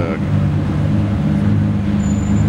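A Maybach rolls in, with a low, steady engine rumble and road noise close by amid surrounding traffic, and a voice briefly audible.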